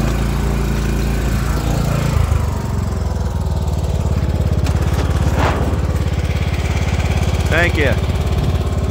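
A 2006 John Deere LA-115 riding lawn mower runs with a steady, loud engine drone that fills the whole stretch, close by, with a brief bit of speech over it.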